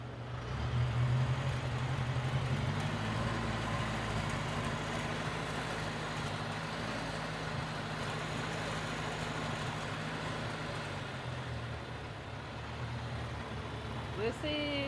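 A 1952 Farmall Cub tractor engine idles steadily with a low, continuous rumble throughout, close and fairly loud, with a faint sharp click near the end.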